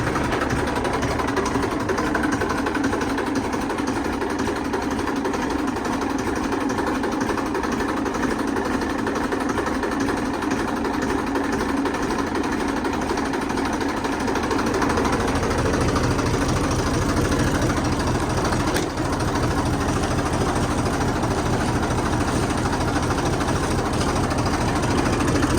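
A tractor engine runs just after a service, a steady, close, continuous idle with a dense mechanical chatter that holds unbroken throughout and shifts slightly in tone partway through.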